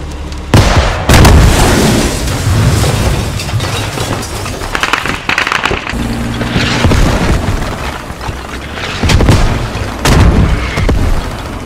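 A Logi truck blowing up in Squad: repeated heavy blasts and booming bursts, loud and close, with sharp cracks of gunfire mixed in through a dense battle din.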